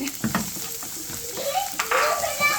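Garlic sautés in oil reused from frying milkfish, giving a steady close sizzle with stirring scrapes and brief utensil clinks throughout.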